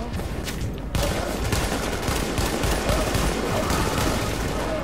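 A gun in The Division shooter game fired continuously at full rate, a loud, dense, unbroken roar of rapid shots lasting several seconds.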